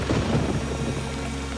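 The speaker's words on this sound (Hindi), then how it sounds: "बारिश में यूं साथ में बैठकर भीगना कितना अच्छा लगता है।" Heavy rain with a deep rumble of thunder, loud and steady throughout with no pauses or voices.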